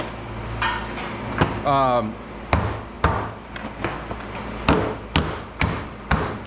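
Hammer blows striking scrap cases on a wooden board laid on a table to crack them open for copper, a series of sharp, irregular metallic knocks close by, with a brief rattling clatter early on.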